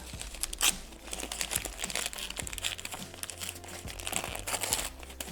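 A plastic packet from a Swedish army field ration crinkles and rustles continuously nearby as it is handled, with sharper crackles mixed into the steady rustling.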